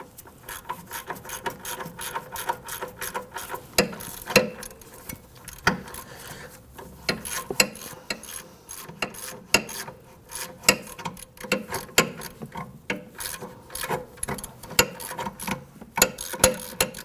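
A ratchet clicks steadily as it backs out a rear suspension bolt on a 2005–2010 Chrysler 300, its close, rapid pawl ticks coming in uneven strokes throughout.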